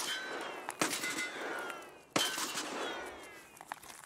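Gunfire in the video game Escape from Tarkov, two sharp distant shots with echoing tails, separated by quieter ambient noise.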